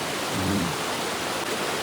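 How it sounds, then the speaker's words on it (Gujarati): Small forest waterfall near Chimer, a steady broadband rush of falling water that fills the clip evenly at moderate level, with no voices. "પાણી છે વોટરફોલ છે ડેમ છે"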